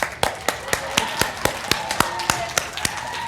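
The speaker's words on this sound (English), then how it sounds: "Clap, give her a hand." An audience at a blues performance claps for a participant in a steady, even beat, about four sharp claps per second, crisp and close.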